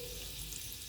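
Curry leaves with mustard seeds and cumin crackle and sizzle in two spoonfuls of hot oil for a tempering, a faint, steady frying hiss without voices.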